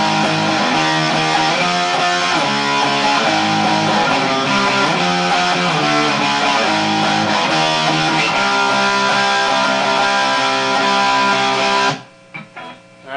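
Driving distorted electric guitar power chords in the verse of a song, played loud and steady in a dense chugging rhythm before stopping abruptly near the end.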